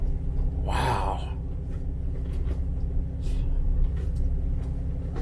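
A Jeep TJ with a rebuilt NSG370 transmission rumbles forward with a low, steady engine drone heard from inside the cab, with a brief breathy exclamation early on and faint vocal sounds over the hum.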